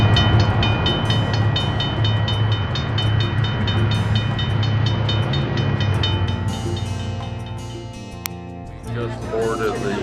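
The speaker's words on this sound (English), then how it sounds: "Just boarded the train and we're gonna be for an 8-hour ride to Denali National Park" Aboard a passenger train bound for Denali National Park in Alaska, a steady rumbling ride noise fills the car, with voices talking over it and a brief sharp tone near the end.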